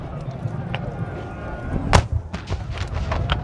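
Cannon fire at the 150th Gettysburg battle reenactment of Pickett's Charge, distant booming reports with one sharper blast midway and more shots following, heard under an announcer talking over a loudspeaker.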